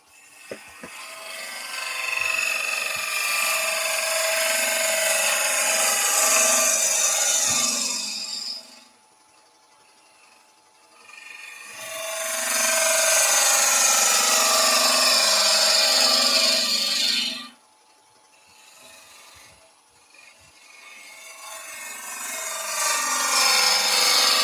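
A gouge cuts an ogee shape into wood spinning on a lathe, giving two long, bright, scraping passes with a quieter lull of spinning between them and a third pass building at the end.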